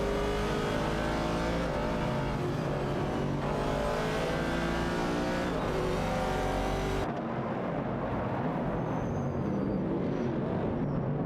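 Race cars, including a 1969 Chevrolet Camaro and a Ford Falcon, roar continuously in a racing video game, engines droning and revving loudly with a sudden drop in tone as a car passes and pulls away.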